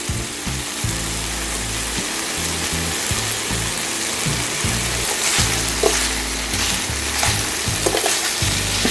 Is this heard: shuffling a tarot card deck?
no